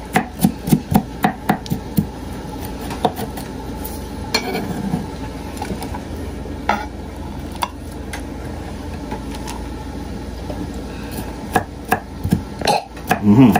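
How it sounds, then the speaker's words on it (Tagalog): A knife chops garlic into small pieces on a board in a series of quick, sharp taps, bursts of close, crisp strikes separated by pauses. "Chop natin ng maliliit yan mga ka-Victorious"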